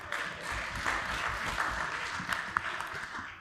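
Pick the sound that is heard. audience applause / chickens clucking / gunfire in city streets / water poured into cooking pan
audience applause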